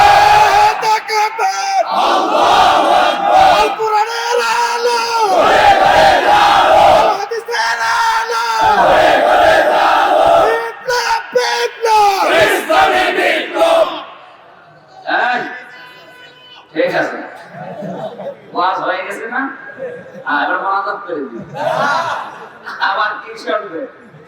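A large congregation at a Bengali Islamic sermon shouts Allahu Akbar together in reply to a takbir call, a loud, sustained massed chant for about half the clip, then scattered quieter voices and murmuring.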